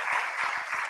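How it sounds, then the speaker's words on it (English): Steady applause from an audience at an agribusiness event, a dense continuous patter of many hands clapping throughout. "A round of applause."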